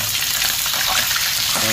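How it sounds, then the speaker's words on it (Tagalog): Steady, dense sizzling of milkfish (bangus) frying in hot oil, loud and close, with crackling spatter continuing throughout. "Magprito muna tayo ngayon."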